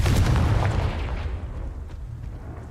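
The Confringo spell blasts in Hogwarts Legacy with a loud, booming explosion, a heavy low rumble that hits at once and then slowly fades away.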